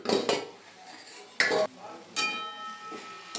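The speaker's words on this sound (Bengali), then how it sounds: "ঢাকাটা খুলে নেব" A metal lid comes off a pan of cabbage and potato cooking for curry, giving a few sharp clanks and scrapes of metal on metal separated by quiet gaps.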